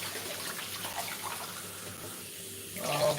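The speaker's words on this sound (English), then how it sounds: "300 grams of warm water straight away into the bowl" Warm water poured into a mixing bowl for focaccia dough in a home kitchen; a soft, steady trickle of liquid, quiet and close, that swells briefly near the end.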